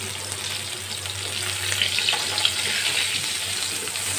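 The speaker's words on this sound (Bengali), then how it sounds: "ততক্ষণ এগুলো আস্তে আস্তে লো ফ্লেমে ভাজাটা হবে" Salted pointed gourd pieces fry slowly in oil on a low flame for doi potol, a soft, even hiss that holds steady throughout with only faint movement and no voices.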